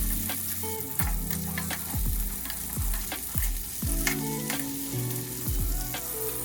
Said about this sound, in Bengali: কড়াইতে তেল গরম করে হালকা করে ভেজে নেব।